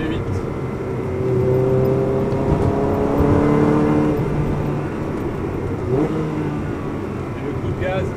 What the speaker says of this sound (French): la mélodie du V8.